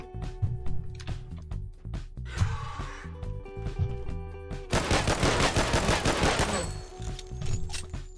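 Machine gun fire in the video game Regain Earth: First Strike, rapid and rhythmic, over a game music bed with lighter shots, then a loud sustained burst in the second half.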